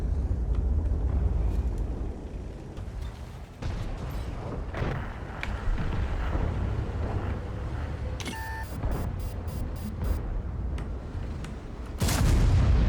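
Tank cannon shots and battle noise in World of Tanks, several heavy booming blasts with rumbling engine noise between, interface beeps near the end and a loud final shot.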